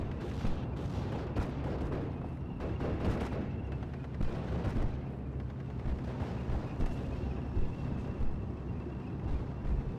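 Rocket strikes hitting and destroying a StuG assault gun in a World War II strategy game battle, a dense continuous rumble of artillery-like blasts and gunfire crackling throughout, loud and sustained with no talking.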